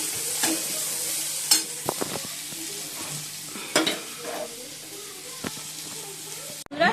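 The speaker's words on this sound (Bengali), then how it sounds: "আলুগুলো ভেজে নিচ্ছি।" Potatoes fry in oil with a continuous close sizzle, broken by several sharp scrapes and clatters of a spatula stirring the pan, with a faint voice in the background.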